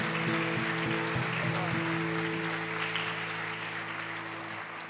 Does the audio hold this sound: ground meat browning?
no